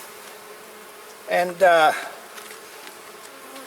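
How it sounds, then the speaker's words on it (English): Honey bees buzzing around an open hive during a spring inspection, a steady faint hum with a brief louder buzz close by, and a voice speaking briefly. "I do see a lot of bees in this hive"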